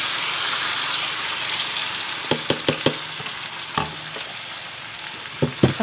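Marinated beef ribs hit a hot pan with onions for beef caldereta, a steady loud sizzle and hiss with several sharp clatters and scrapes of stirring.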